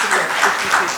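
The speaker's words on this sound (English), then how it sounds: "Big round of applause." Dense audience applause at a trade conclave panel discussion in Mumbai, a continuous, loud wash of many hands clapping throughout the short moment, with no distinct voices above it.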